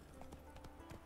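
Horse hooves clip-clop in the video game Witcher 3: Wild Hunt, several quick distinct beats in an uneven rhythm, faint and close.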